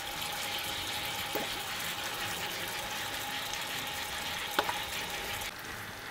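Chicken breast frying in a pan with soy sauce, apple cider vinegar and honey, giving a steady, even sizzle throughout with a couple of faint clinks, no talking.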